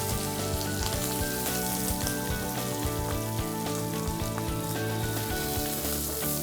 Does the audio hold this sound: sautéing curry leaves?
yes